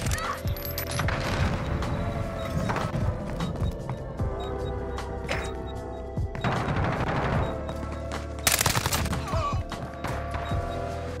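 Rapid automatic SMG fire from the ISO submachine gun in Modern Warfare, sustained bursts through most of the stretch with mechanical clacks and a louder burst near the end, all over dense game effects.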